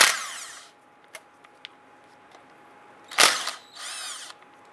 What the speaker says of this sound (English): we're gonna use our 5/16 socket and remove these two